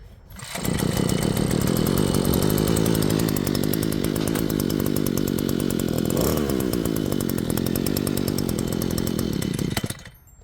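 The 52cc gas engine of a Vevor D52-F post hole auger runs at a loud, close, buzzing two-stroke whine. It starts abruptly, holds steady for about nine seconds with a brief rev in the middle, then cuts off.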